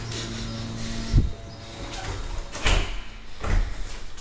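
Double doors at a house swing open, with three distinct knocks and thuds of the doors and latch spaced over a few seconds, close and moderately loud, with no talking.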